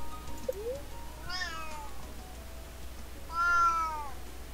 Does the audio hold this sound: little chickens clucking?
no